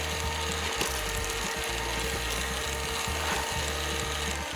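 An electric ice cream maker churns chocolate ice cream packed in ice and salt, its motor grinding and ratcheting in a steady mechanical clatter with irregular clicks and knocks, no voices.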